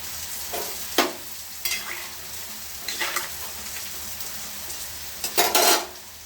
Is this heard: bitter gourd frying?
yes